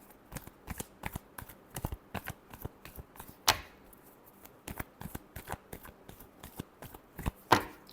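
Tarot cards are shuffled close by, a quiet run of sharp riffling snaps and flicks in an uneven rhythm, with a couple of louder slaps.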